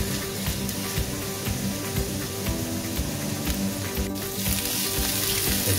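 Breakfast sausages fry in a pan with a loud, dense, unbroken sizzle and crackle, close up, with a few faint stirring knocks and no talking.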